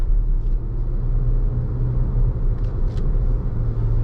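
Steady in-cabin road and engine rumble from a 2020 Jeep Grand Cherokee Upland cruising on the highway, continuous low drone with tire noise and a few faint higher ticks.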